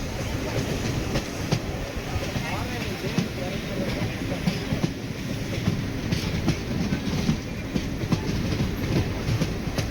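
The Chennai Egmore Express train rumbles and clatters steadily along the rails near the Kallada River, close and continuous, with a dense, rolling mechanical roar throughout.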